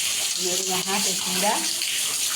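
Heavy monsoon rain and flood water pour across an unfinished roof and down a staircase at home, a steady broad rushing hiss throughout while someone talks over it.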